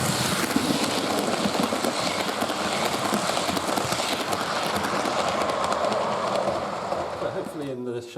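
A model railway train runs steadily along the track of a layout being relaid, a continuous rumbling clatter close by, with people talking faintly over it and the noise trailing off at the end.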